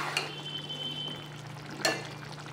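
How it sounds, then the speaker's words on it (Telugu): Rice, coriander seeds, cumin, curry leaves and dry red chillies roasting in a dry pan for a tangy cluster bean curry, giving a soft steady crackle with a faint hum and an occasional clink of a stirring spoon. "అన్నీ వేపుకోవాలి. ధనియాలు, జీలకర్ర, కరివేపాకు కూడా వేపేయాలండి."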